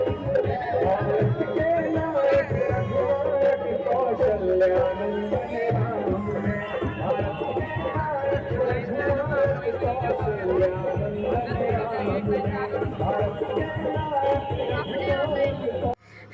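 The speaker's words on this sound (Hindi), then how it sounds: "बगल में हनुमान जी का मंदिर था जहाँ इतनी भीड़ थी लाइन की कि हद से ज़्यादा" A dense crowd queuing at a Hanuman temple on 22 January: continuous loud babble of many voices close by, steady throughout and cutting off abruptly at the end.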